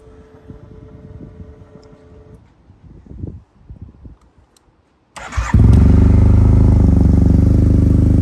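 A 2009 Yamaha TMAX 500 twin-cylinder scooter sits quietly with faint clicks and handling noises, then its engine cranks and catches, settling into a loud, steady idle close by.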